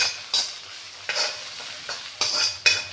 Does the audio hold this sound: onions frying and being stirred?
yes